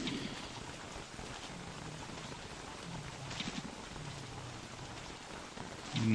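Rain falling in the video game Don't Starve, a steady soft hiss of drops pattering without pause, with faint low rumbles underneath and no talk.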